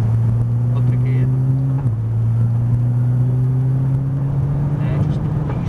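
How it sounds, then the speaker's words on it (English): Nissan GTR on a track at Prestwold, engine droning loudly as it accelerates, the pitch climbing then dropping with a gear change before rising again, heard from inside the car with people talking over it. "So now we're going to go off towards that yellow cone. Start to accelerate, yeah, okay. Up the gear."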